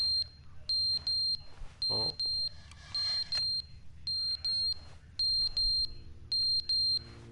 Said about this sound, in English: Fire alarm.